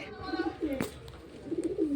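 A female fulsira pigeon coos in a couple of soft, rolling bursts nearby, with a quick sharp click between them over a quiet background.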